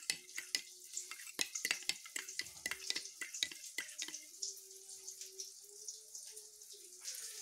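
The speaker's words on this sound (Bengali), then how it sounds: "এবার এই সসগুলোকে, 2 রকম সসকে একসঙ্গে বেশ ভালোভাবে আমি এইভাবে মিশিয়ে নিচ্ছি" A spoon clinks and scrapes in a small bowl, stirring two sauces together, soy sauce among them, in a series of sharp taps and faint swishes.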